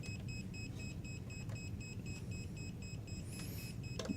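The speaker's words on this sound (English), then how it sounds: "That beeping is just saying that the meter is detecting that there's live AC in here" A multimeter detecting live AC beeps rapidly and steadily in continuous pulses over a low hum, with a few faint clicks and a brief chirp.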